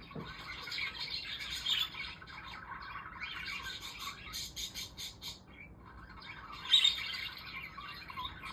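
Pet budgies chirp and squawk in a continuous, busy chatter of high tweets, with a louder squawk near the end, moderately close, with no voices over them.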